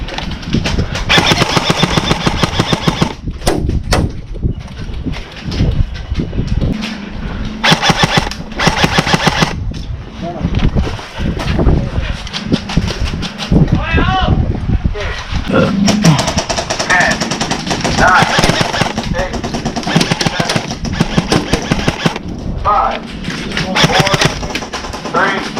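Airsoft guns firing in rapid automatic bursts and single shots during an outdoor skirmish in Hawaii, loud and continuous across the whole stretch, with shouted voices mixed in.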